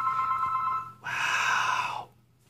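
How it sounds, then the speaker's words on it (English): A home landline telephone ringing, one long electronic ring burst after a fading earlier tone, fairly close and alone in a quiet room with a low hum underneath. "my home phone decided to randomly start ringing on me"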